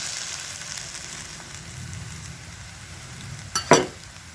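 Egg whites hit a hot frying pan of rice, giving a soft steady sizzle and frying hiss, with a brief louder clatter of stirring near the end.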